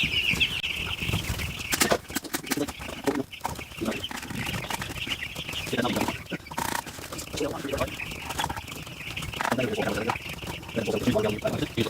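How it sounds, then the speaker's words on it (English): Young chicks eat a pile of wet food, pecking busily with sharp little taps amid constant cheeping and occasional clucks and wing flutters, close and lively, with a voice intermittently underneath. "Here it comes, the pile of wet food. The starving chicks are so happy."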